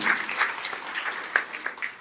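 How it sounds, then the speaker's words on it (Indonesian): Scattered applause rises from a church congregation during a sermon, fairly quiet and distant, a loose patter of hands with a few sharper individual claps. "Tepuk tangan yang meriah untuk kemuliaan."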